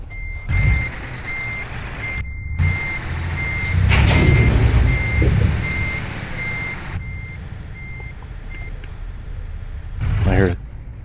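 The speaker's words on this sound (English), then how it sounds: "Thought I heard another truck" A truck's engine rumbles in Euro Truck Simulator 2 with a steady series of evenly spaced reversing beeps, interrupted by brief gaps and a louder hiss near the end.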